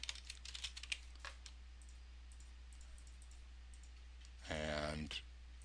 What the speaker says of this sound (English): And we'll give Chrissy a super secret password that no one could ever crack